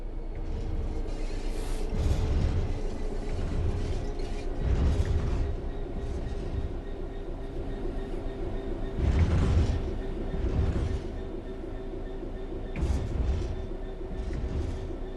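A locomotive in Train Sim World 4 coasts on level track with the throttle closed: a steady low rolling rumble, broken every few seconds by louder bursts of wheel clatter over rail joints, with no talking.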